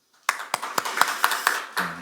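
Church congregation in Korea claps during a Sunday service to thank a departing minister, a brief run of about six distinct, evenly spaced claps ringing in the hall, fairly faint and sparse.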